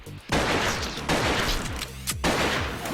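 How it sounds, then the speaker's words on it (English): Missile strikes in the indie video game Artificial Defense, a loud crackling burst of explosions that fades, then two more booming blasts follow in quick succession. "So now let's go ahead and launch a missile down at that guy."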